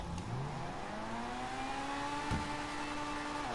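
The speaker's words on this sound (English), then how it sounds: "Bloody hell, that takes forever to the rev." A car engine in the video game Grand Theft Auto 5 revs steadily, its pitch climbing slowly and continuously. It is loud and alone, with one brief thump partway through.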